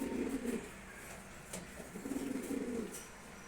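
Caged pigeons coo in soft, repeated low rounds, with a pause in the middle before the cooing resumes, heard close and with no talking.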